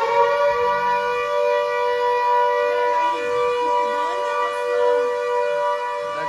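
A loud siren wails steadily and keeps going through the whole stretch, heard from a fair distance with faint background noise and no speech.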